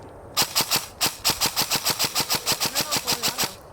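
An airsoft gun fires in a rapid semi-automatic string of about twenty crisp, evenly spaced pops, close and loud, with a short pause after the first few shots.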